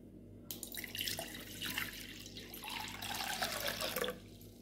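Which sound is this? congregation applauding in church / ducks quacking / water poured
water poured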